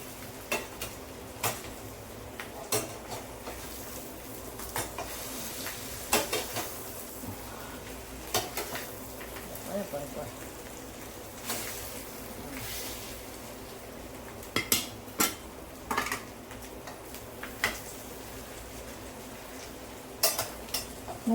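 Fish roe fry is turned over in a pan of oil on low heat using two ladles, giving scattered metallic clinks and scrapes over a faint, quiet sizzle with no talk.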